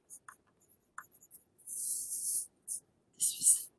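A pencil labels sections of a charcoal value scale on paper, making close, crisp scratching strokes in short bursts separated by brief pauses, with no talking.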